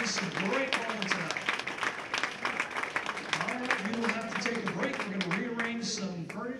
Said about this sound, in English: One more round of applause for all four of our bowlers.